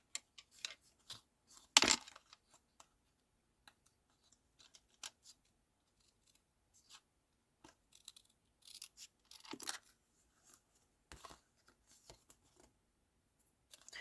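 Paper scissors snipping off leftover cardstock scraps for a log cabin style handmade card, a few sparse crisp cuts with one loud close snip among quiet rustles on a craft table.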